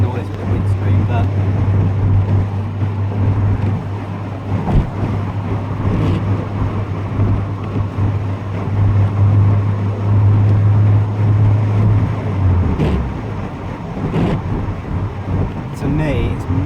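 Steady interior drone of a VW Golf Mk3 driving after a wheel bearing repair, with a low engine and road hum and wind noise around the windscreen, someone talking over it.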